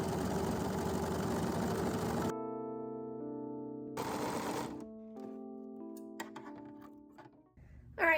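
Sewing machine stitching a dress, a steady mechanical whir in short bursts separated by pauses, with faint handling noises between runs.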